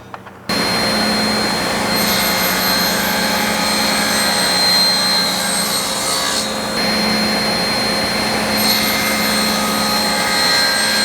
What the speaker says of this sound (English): I can then go ahead and finish off the reveal cut